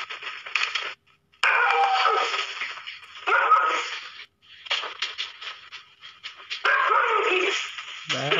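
A dog yips, whimpers and pants in repeated short bursts, heard close and fairly loud with brief gaps between, in a noisy outdoor setting.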